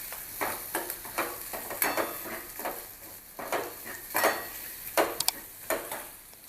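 Ingredients mixed in a bowl for bread pakora batter, with repeated scraping and clinking strokes of a spoon against the bowl at an uneven rhythm, near and moderately loud, with no talking.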